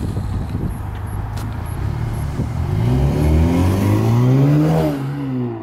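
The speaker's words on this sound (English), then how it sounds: "Oh yeah, you can hear the turbo now." A Cadillac ATS 2.0 turbo fitted with a Mishimoto intake revs up close by, the engine note climbing and rising in pitch to a loud peak, then easing off, with no voices over it.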